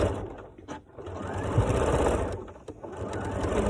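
A sewing machine straight stitching over a fabric nose piece, its motor whirring in a close, steady mechanical run with brief slowdowns and restarts.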